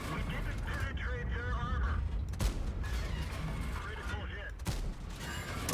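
A tank gun fires high explosive shells in World of Tanks, with heavy booms and battle noise layered under continuous talk from a player.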